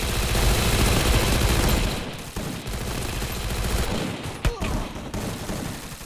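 Gunfire in a team-up shooting video game: a dense fusillade of rapid shots for about two seconds, followed by quieter scattered rounds and one sharp nearby crack.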